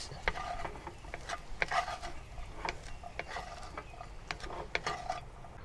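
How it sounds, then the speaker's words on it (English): BBQ pork fried rice with peas and egg stir-frying over medium heat in a pan, with soft sizzling and intermittent scraping and clinking of a utensil against the pan at an uneven pace. "Continue stir frying over medium heat."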